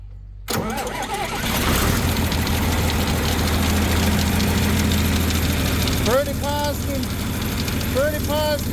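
An old engine cranks briefly, then catches and settles into a loud, rough, steady run close by, with a few faint voice-like sounds over the running motor.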